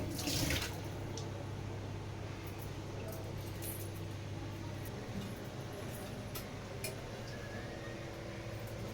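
Bitter gourds are washed in water for a masala curry, with a continuous close rush of running water and soft sloshing, interrupted by a few small clinks and splashes.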